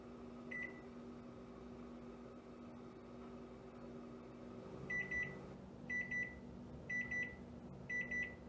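A kitchen timer goes off for boiled eggs on a stove, a short electronic beep followed by four evenly spaced pairs of beeps, clear and fairly close over a low hum.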